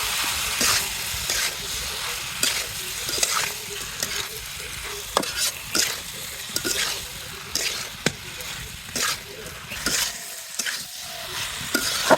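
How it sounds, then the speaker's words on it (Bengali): Beef tripe frying in a pan for a tripe curry after the spice paste is cooked down, a steady close sizzle broken by regular sharp scrapes and stirring knocks, with a brief quieter patch near the end. "এখন আমি দিয়ে দেবো ভুড়ি এভাবে আমি আস্তে আস্তে ভাজতে থাকবো ভুড়িটা"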